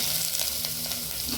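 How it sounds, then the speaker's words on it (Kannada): Mutton masala frying in a pan for a Mangalore-Udupi style mutton rasa, giving a continuous close sizzle and crackle with a low hum underneath. "ಅದರಲ್ಲಿ ಸ್ವಲ್ಪ ಫ್ರೈ ಆಗಲಿ"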